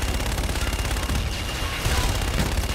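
Artillery fire strike in Call of Duty: Infinite Warfare, a dense continuous barrage of rapid blasts and crackling explosions, loud and sustained with a heavier surge near the end, filling the whole stretch.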